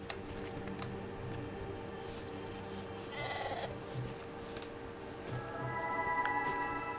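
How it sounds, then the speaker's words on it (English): Sheep bleat in World of Warcraft: The War Within, a couple of short calls rising over a steady ambient game soundscape with music tones, moderately near. "Oh my gosh, look at these sheeps."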